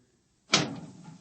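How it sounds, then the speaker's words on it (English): A door bursts open after a moment of quiet in an old-time sci-fi radio drama, a sharp close impact trailing into a rattling, decaying rumble. "Open the door."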